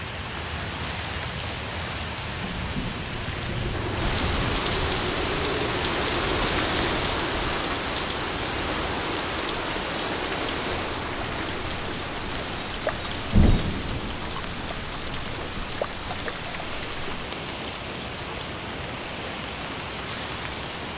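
Steady, dense rain pours over the flat Dutch delta, with a single sharp thunderclap past the middle and low rumble beneath, no voices.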